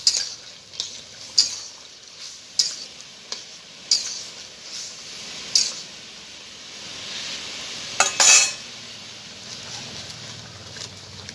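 Fried pumpkin bori are stirred into a nearly finished eggplant and potato curry: a soft pan sizzle sits under repeated sharp clinks of a metal spoon against the pot, spaced every second or so, with a brief scraping flurry near the end.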